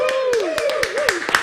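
A studio audience claps in a rhythmic run of sharp hand claps for a host on a television show, while a voice speaks over the applause.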